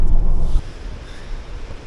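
Wind and surf at the point where the Indian and Atlantic oceans meet, a loud low roar of wind buffeting the microphone and crashing water, strongest in the first half second then steady.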